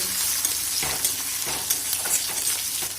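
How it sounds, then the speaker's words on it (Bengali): Chopped tomato and slit green chillies fry in a pan for a flat bean and mung dal dish. A steady sizzle is stirred with repeated soft scraping strokes, close and moderately loud, with no voices. "এবার দিয়ে দেবো টমেটো কুচি আর চেরা কাঁচা লঙ্কা দিয়ে আবার কিছুক্ষণ এটা কষিয়ে নেব"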